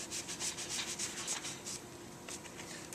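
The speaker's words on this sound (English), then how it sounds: "So we'll just scrub it out of there." Scrubbing at a glued wooden table joint, a steady run of brisk back-and-forth rubbing strokes, close and moderately loud, easing slightly toward the end with no talking.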